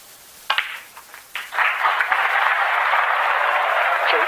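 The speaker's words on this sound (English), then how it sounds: "There'll be applause for the century" Arena crowd at a snooker match breaks into sustained applause for a century break, starting with a few scattered claps and swelling into steady, loud clapping that holds to the end.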